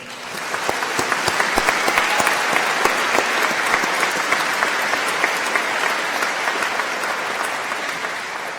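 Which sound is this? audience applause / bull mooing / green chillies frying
audience applause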